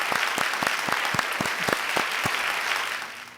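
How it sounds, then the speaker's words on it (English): Applause for awardees at an awards and recognition gala, a steady round of clapping with a few louder distinct claps, moderately faint and alone without voices. "Let's have virtual rounds of applause for our awardees."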